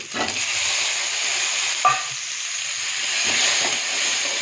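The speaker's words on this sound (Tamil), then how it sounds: "தக்காளி கொஞ்சம் நேரம் வணங்கட்டும்." Tomato sautéing in a pan for peanut chutney gives a steady, even sizzle throughout, with a few soft stirring scrapes and a brief clink near the middle.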